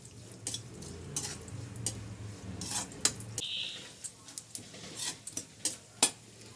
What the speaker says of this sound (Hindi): अब पहले इनको अच्छे से घी में फ्राई कर लूँगी, गोल्डन होने तक फ्राई हो जाएंगे